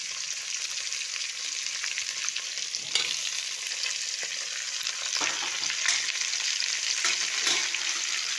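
Chopped tomatoes, cucumber and green chillies fry in a pot for Andhra-style sambar, giving a continuous bright sizzle with intermittent stirring scrapes and small pops throughout.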